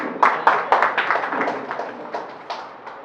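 Scattered hands clap at a book launch gathering of poets and writers, a loose handful of sharp individual claps that thin out and fade over a few seconds.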